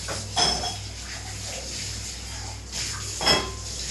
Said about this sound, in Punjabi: ਭਾਂਡੇ ਮਾਂਜੋ ਭਾਂਡੇ ਮਾਂਜੋ